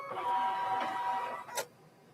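A sewing machine stitches the placement line on a fabric mug rug, its motor running in a steady whirring hum for about a second and a half before a short clunk and a stop.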